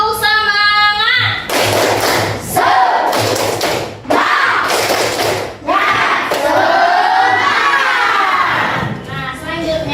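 A classroom of pupils performs a rhythmic spirit clap chant, bursts of loud clapping and thumps alternating with group shouting and chanting voices, close and energetic over about ten seconds.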